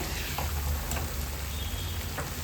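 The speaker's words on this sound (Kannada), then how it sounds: "ಗೀ ರೋಸ್ಟಿಗೆ ಮಸಾಲೆ ಈ ರೀತಿಯಲ್ಲಿ ಫ್ರೈ ಆಗಬೇಕು" Prawn ghee roast masala sizzles in ghee in a pan, a steady close crackling hiss with a few faint clicks and no talk.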